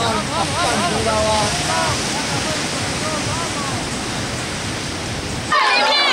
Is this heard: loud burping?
no